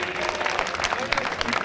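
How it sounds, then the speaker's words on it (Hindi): Applause from an audience at a Bhagwati jagran devotional night in Vasant Vihar, Delhi, a steady wash of clapping heard alongside speech. "एक बार स्टेज पे आके जोरदार तालियां अनिल भाई के लिए।"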